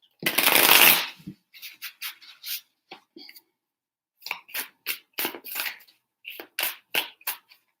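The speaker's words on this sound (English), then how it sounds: "2 more shuffles" Tarot cards are riffled and shuffled in quick bursts, one long shuffle followed by several short crisp ones with pauses between.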